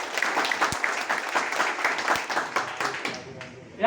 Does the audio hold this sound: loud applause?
yes